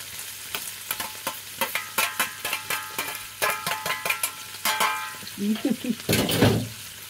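Spinach and beef being stir-fried in a pan, with a steady sizzle broken by rhythmic scraping strokes of a utensil, close and fairly loud.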